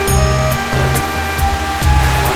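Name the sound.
water falling down Mandakini river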